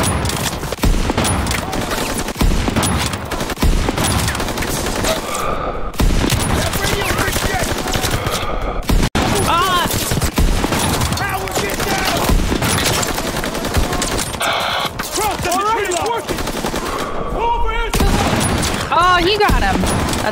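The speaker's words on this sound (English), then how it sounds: "It's wild watching the bullets coming in from them." Sustained Call of Duty: WWII wartime gunfire, dense bursts of rifle and machine-gun shots with booms over twenty seconds, loud and continuous, with voices talking throughout.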